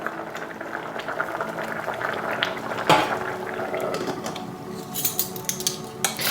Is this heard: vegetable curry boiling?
yes